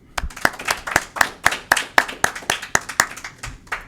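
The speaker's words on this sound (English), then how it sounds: "I think you guys owe yourself a big round of applause." A small group at a graduation ceremony claps steadily for a few seconds, distinct individual claps in an even rhythm, close by.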